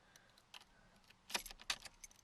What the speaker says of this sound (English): I actually have 2 keys on my key ring.